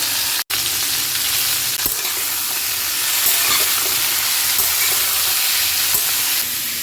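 Mixed vegetables, pointed gourd, beans, green papaya, carrot and tomato, frying in a pan for a spinach ghonto, with a steady close sizzle, brief stirring scrapes and one short gap near the start.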